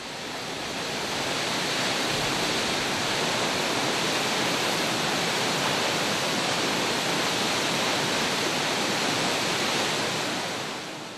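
A waterfall near a mountain temple in Kumano, Japan, pours in a dense, constant roar of falling water, loud and steady throughout with no voices.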